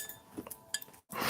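Glass clinks faintly a few times as someone takes a drink of water, small sharp taps scattered over a quiet room, then a brief silence before a louder rush of noise.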